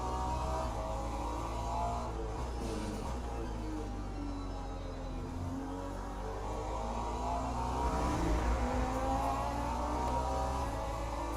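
An LMP3 race car engine in the Le Mans Ultimate racing game drones steadily, a sustained mid-level engine hum with shifting pitch, continuous throughout with no talk.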